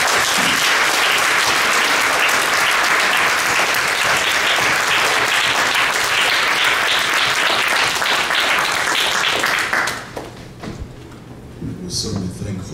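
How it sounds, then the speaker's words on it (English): Church congregation clapping hands after an altar call, loud sustained applause from many people filling about ten seconds, then fading to scattered claps and quieter room sounds with talk. "let's give God a hand clap"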